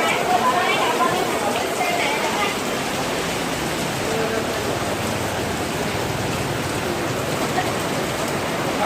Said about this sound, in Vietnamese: một buổi chiều đi ăn bún riêu mà gặp mưa tầm tã xối xả luôn cả nhà ơi